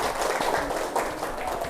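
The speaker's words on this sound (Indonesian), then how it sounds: "Berikan tepuk tangan dulu buat Manda." Classroom applause for a student named Manda: a dense, steady patter of many hands clapping together, moderately loud and continuing without a break from start to finish.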